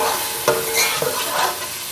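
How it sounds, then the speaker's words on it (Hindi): Garlic sizzles in hot oil in a pot while a spoon stirs it, with a steady close frying hiss and a few louder scraping strokes. Nobody talks. "इसको हमने लहसुन को भूनना है"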